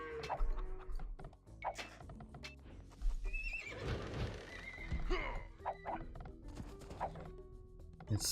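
Horses neigh and whinny repeatedly amid clip-clopping hooves in a medieval real-time strategy game, Age of Empires II, with layered in-game battle and unit sounds; no talk.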